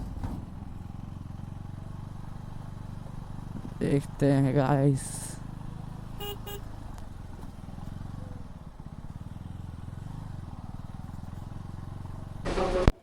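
A motorcycle ridden up onto a bridge, with a steady low engine drone throughout, brief rattling and scraping bursts partway through, and someone talking over the ride.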